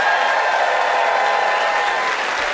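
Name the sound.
audience applauding to vote for Graham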